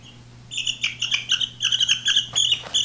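A pet bird chirps and tweets in quick bursts of close, bright calls while being fitted with a bird apron with straps, the calls loud and clustered with short pauses.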